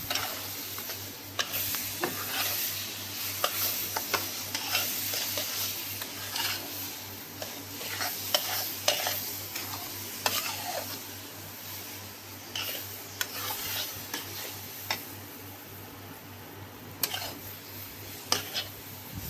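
Semolina is stirred into mango pulp in a pan for sweet mango sheera, producing a continuous close sizzle with repeated scraping strokes of the spoon and no speech.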